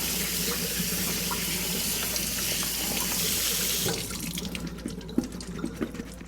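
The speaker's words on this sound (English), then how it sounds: "Just running a little bit of cold water over the grapes, making sure they're nice and clean." Cold water runs from a kitchen tap over grapes being rinsed clean, a steady hissing stream that changes about two-thirds through into a splashier, more broken spatter with small drips and knocks.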